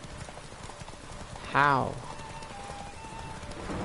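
Horse galloping in The Witcher 3, with rapid hoofbeats running throughout and a short whinny rising in the middle, while a voice speaks briefly.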